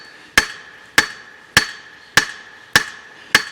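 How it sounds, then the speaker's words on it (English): Farrier's hammer striking a steel horseshoe on an anvil: six loud, evenly spaced metallic blows with a ringing tone, each decaying quickly, close and alone. "I can grind or hammer more taper in"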